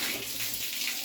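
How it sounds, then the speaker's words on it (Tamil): Water poured over a waterproof cover draped on a motorbike seat, a steady close splashing and pattering wash of water with no voices. "இப்ப மேல தண்ணி ஊத்தியும் பாத்துடலாம்."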